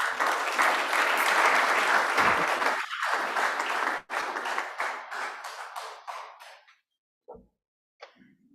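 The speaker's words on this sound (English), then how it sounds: "the Rufaron deserves a better clap" An audience at a climate justice workshop in Nairobi bursts into loud, dense applause that holds for several seconds. It then thins into scattered claps and trails off to near silence with a few last isolated claps.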